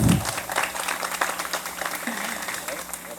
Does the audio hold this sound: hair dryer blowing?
no